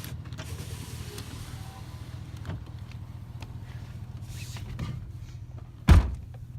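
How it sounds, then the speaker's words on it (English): Power window motor on a 2007 Chevy Silverado 1500 whirring as the glass rolls down, a steady mechanical hum over the truck's low idle, ending in a sharp thump near the close. "I'm going to go ahead and unroll the window"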